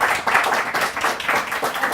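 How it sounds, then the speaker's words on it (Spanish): An audience at a scientific session on mental health emergencies applauds in a brief, dense patter of clapping that holds steady at moderate volume. "Vamos a darle un aplauso y seguimos"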